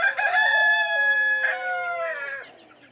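A black cuckoo rooster crows loudly and close, one long strained call with a break partway through, tailing off into softer clucking noises with no talking.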